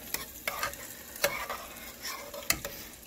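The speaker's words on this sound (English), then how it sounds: "Gotta stir that stuff up." Spoon stirs baked ziti sauce with parmesan and parsley in a pan on the stove, giving sharp scraping clacks at uneven intervals over a soft, faint sizzle.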